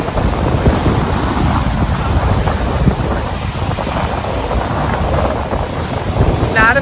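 Strong wind at a lake, loud continuous buffeting roar across the microphone with water washing underneath, steady and unbroken throughout.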